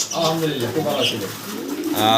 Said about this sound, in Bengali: কবুতরগুলো দেখেন খাবার দাবার খাওয়া নিয়ে ব্যস্ত